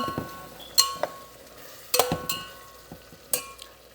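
Spice masala for dal fries in oil in a pot, with a low sizzle under several sharp scraping and clinking strokes of a spoon against the metal, spaced about a second apart.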